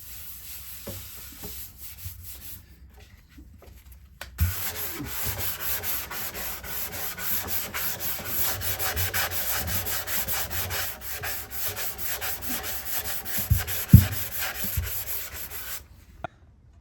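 Sandpaper rubs over the wood of a 1969 Martin D-28 guitar to work sawdust into the grain, a steady close scratching that starts after a quiet opening and runs for about twelve seconds with a few sharper scrapes near the end.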